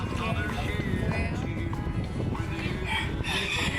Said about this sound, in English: It's a lot of chicken.